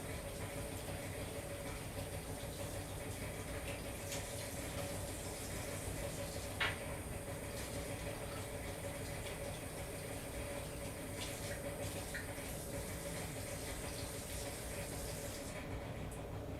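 A tap runs steadily into a container to replace dirty paint-rinse water, a constant hissing fill that lasts the whole stretch with a brief clunk midway and no talking.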